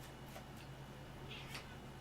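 A house cat gives a few short, faint meows over a steady low hum, quiet and fairly close in an indoor room.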